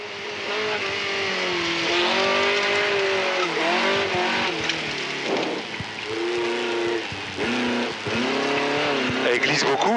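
Alpine Berlinette racing up a hillclimb course, its engine note rising and falling loudly through gear changes and slides, with the revs dipping briefly between bursts of acceleration and a voice talking over it.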